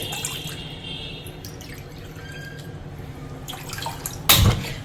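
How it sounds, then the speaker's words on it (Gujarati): Water poured into a pot for cooking rice-flour khichu in a home kitchen, a steady trickling pour running through the clip with a louder splash near the end. "ચલો આપણે પાણી એડ કરી દઈએ."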